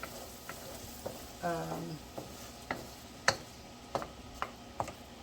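Quiet kitchen sounds with scattered taps and clinks of a utensil against a pan, over a faint background sizzle of onions frying.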